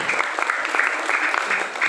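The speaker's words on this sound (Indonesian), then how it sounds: "kita harus tepuk tangan" Audience applause fills a Balinese bondres comedy show at Banjar Selat, Beringkit: dense, steady clapping from a crowd lasts the full two seconds, fairly loud and close, with faint voices mixed in.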